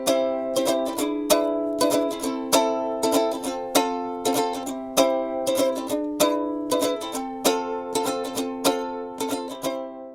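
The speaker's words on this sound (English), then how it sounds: "A chord is when you hear somebody playing the ukulele like this." Ukulele chords strummed in a steady rhythm, each bright down-stroke ringing out clearly and close, repeated many times alone with no voice over them.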